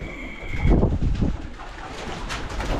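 Pigeons cooing in a loft, low soft rolling coos repeated several times close by, with faint rustling in the background.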